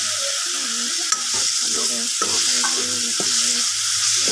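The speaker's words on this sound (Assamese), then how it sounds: "ভাজি ল'ম।" Steady sizzling of rajma (kidney bean) curry with turmeric and salt frying in a pan, with occasional clinks and scraping of stirring throughout; no voices.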